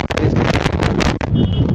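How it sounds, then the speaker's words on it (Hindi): Strong gusting wind in Solan under heavy cloud cover roars loudly across the microphone, a dense continuous rush with buffeting gusts and a brief dip near the middle. "तेज हवाएं चली हुई है"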